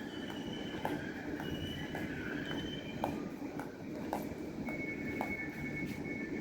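A new C-series train arrives at Perth Station amid a steady low rumble of wheels on track, with regular clicks over rail joints and a faint high squeal, heard at a moderate distance.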